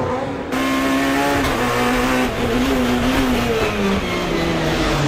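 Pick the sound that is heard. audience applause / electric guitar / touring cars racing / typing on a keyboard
touring cars racing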